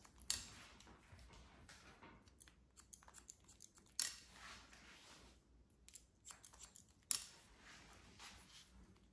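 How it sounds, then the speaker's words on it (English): Scissors point-cut into curly hair for a short pixie cut, giving a few crisp snips at close range with quiet pauses between them. "point cut into that"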